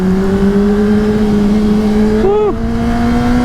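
A Honda CBR 600RR supersport motorcycle pulls hard with a loud, steady engine whine that holds pitch, then dips and climbs again briefly near the end, heard up close.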